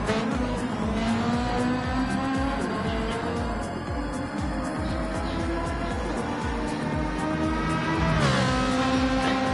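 A GXR Ferrari race car driving, its engine droning and shifting pitch through gear changes, with a sharp rise in revs near the end.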